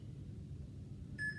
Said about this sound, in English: So you're gonna hear that beep.